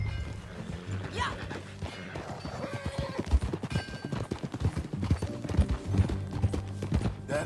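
Horse hooves clip-clop steadily in Red Dead Redemption 2, with a neigh early on, set under game music and ambient sound while voices talk.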